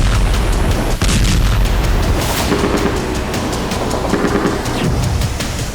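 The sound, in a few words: explosions in Ukrainian cities from Russian drone attacks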